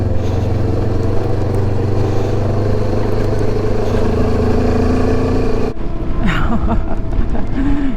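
A motorcycle engine hums steadily and loudly up close while riding along a muddy dirt road, with rattles and shifts in pitch as it goes, followed by a rougher, clattering stretch near the end.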